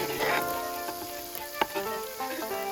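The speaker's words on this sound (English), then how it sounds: "I'm going to add the onions and the celery to start brown the onions" Onions, celery and garlic sizzle in a potjie pot over a braai for a chicken casserole, a soft continuous frying hiss with a few light stirring clinks.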